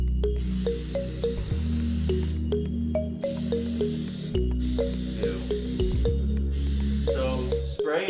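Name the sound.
spray painting a PlayStation 5 console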